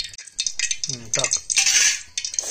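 Onion stirred in a pan with a utensil for a wild-vegetable dish, giving repeated metal scrapes and clinks with a light rattle, close and fairly loud in short bursts with brief gaps.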